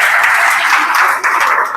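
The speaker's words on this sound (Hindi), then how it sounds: "जोरदार तालियां" A burst of loud, close clapping from a group, dense and continuous for a couple of seconds.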